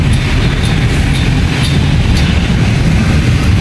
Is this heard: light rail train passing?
yes